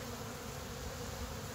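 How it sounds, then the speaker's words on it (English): Honeybees buzz around a hive feeder in spring, a steady, dense drone of many insects close by with no voices. "these damn bees are back on the feed"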